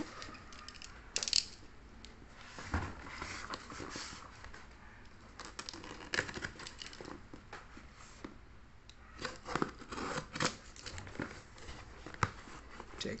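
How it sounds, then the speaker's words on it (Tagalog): Hot Wheels toy car packaging being opened by hand, a scattered run of crinkling, tearing and clicking plastic and cardboard sounds, close and fairly loud, with no talking. "Okay, buksan natin."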